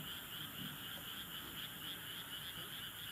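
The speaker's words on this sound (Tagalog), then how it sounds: "Ang ingay ng mga palaka." Frogs croaking at night during a summer New Year's Eve, a loud, continuous chorus of overlapping pulsing calls filling the background with no pauses.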